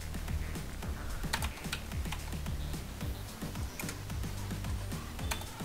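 Close computer keyboard typing while copying and pasting with Ctrl C and Ctrl V, a fast irregular patter of light key clicks running throughout with no voices.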